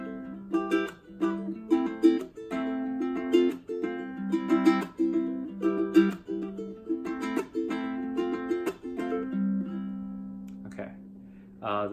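Ukulele playing a reggae and Hawaiian style strumming pattern with a thumb pluck and percussive chucks, a steady rhythmic strum with sharp muted hits throughout, close and moderately soft.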